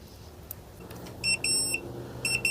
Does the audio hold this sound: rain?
no